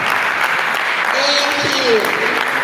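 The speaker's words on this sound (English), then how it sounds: "Please let the clap keep going." Audience applause at a food week event, a dense steady wash of clapping that carries throughout, with a voice speaking over it and a brief tonal whistle or squeal in the middle.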